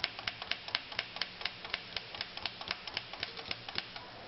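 A Corona 3 typewriter clacks with a steady run of sharp keystrokes, about four or five per second, close and fairly quiet with no voices.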